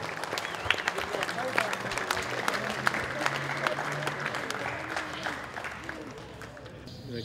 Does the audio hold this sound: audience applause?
yes